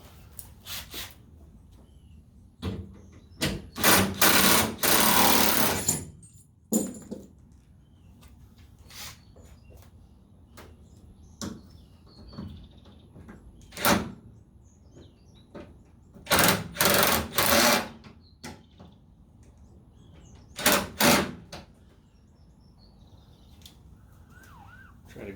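An impact wrench loosens bolts on the bed rails of a 2002 Chevy Silverado truck, firing in several loud rattling bursts of one to two seconds, with quieter clicks and pauses between them.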